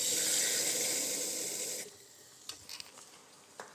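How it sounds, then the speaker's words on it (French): Water pours into a cooking pan of red wine, a loud rushing hiss that cuts off abruptly partway through, followed by a few soft knocks and clinks in the quieter pan. "Je vais rajouter un petit peu d'eau."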